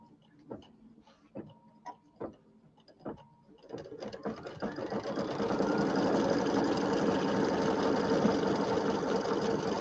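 Sewing machine stitching quilt pieces for a bench pillow: a few scattered clicks and taps, then the motor starts and runs in a steady close whirring stitch to the end.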